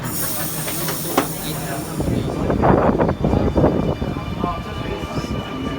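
A Sydney Trains Millennium train, set M30, rumbles past on the Carlingford Line with a steady hiss and rising clatter, loud and close, while a voice is heard faintly at the start.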